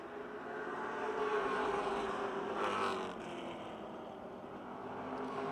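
Dirt track limited late model race cars on their final lap at Motordrome Speedway give off a distant, steady engine drone that swells and fades slightly, faint and without voices.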